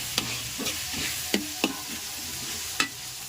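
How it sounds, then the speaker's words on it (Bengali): Ginger garlic paste frying in a pan with shrimp and taro leaves, a steady soft sizzle broken by several sharp scrapes and taps of a stirring spoon, close and alone without talk. "এখন দিয়ে দিলাম একটু আদা রসুন বাটা, এটা দিয়ে এখন একটু ভেজে নেবো।"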